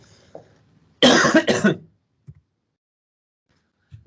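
A person coughs twice in quick succession, loud and close, during an ECG revision lecture; quiet room tone surrounds the coughs, and a couple of faint soft bumps follow.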